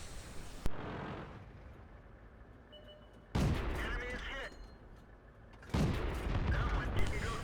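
Artillery shells boom in World of Tanks during a Prokhorovka encounter battle, heavy blasts landing at intervals over a low rumbling game soundscape.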